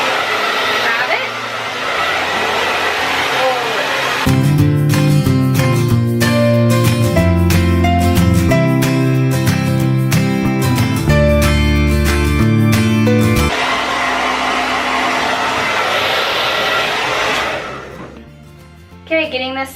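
A hair dryer blows hair forward over a round brush with a loud, steady broadband whoosh, partly covered in the middle by a stretch of music before the dryer sounds alone again and fades out.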